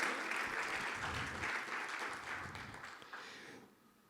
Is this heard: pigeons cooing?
no